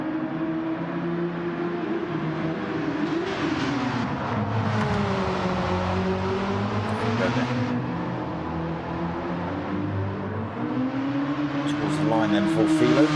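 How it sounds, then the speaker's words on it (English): Classic DTM race car engines roar in a racing video game league event at Trial Mountain circuit, with sustained rising and falling engine pitch as cars accelerate and shift, while a commentator talks over them throughout. "Do sound good, these DTM cars."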